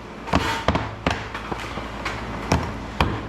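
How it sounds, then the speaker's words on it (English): Hammer blows on scrap metal during a shop scrap-out, about seven sharp close impacts in an uneven rhythm, each ringing briefly, no voices. "Hit it with the hammer."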